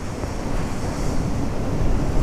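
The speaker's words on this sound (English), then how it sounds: "So I've got a nice big wave coming in now." A large ocean wave surging in over rocks on the coast at Orbost, Isle of Skye, a loud, continuous roar of surf with wind buffeting the microphone.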